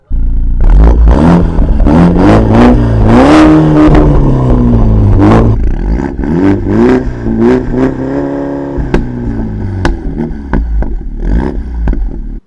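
A modified Mini Cooper S engine revs hard over and over, its loud sports exhaust roaring and crackling in repeated bursts, close by with no talking.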